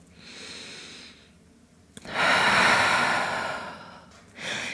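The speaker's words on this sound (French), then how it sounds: "Encore une ou deux respirations" Slow, deep breaths during a yoga practice, a long exhale followed by a louder, fuller breath, close and alone with no talk.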